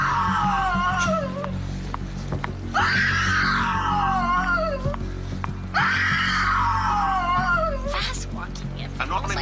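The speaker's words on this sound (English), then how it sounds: "a perfectly timed donation to play a scream sound effect managed to scare the stalker away" A loud, close scream sound effect played on a livestream, two long wailing cries that fall in pitch, separated by a pause, over a low background hum.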